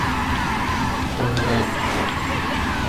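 A car drifting with tires skidding in the racing game Burnout Dominator, a steady loud engine roar with a smeared squeal of tires running throughout, mixed with someone talking excitedly over it.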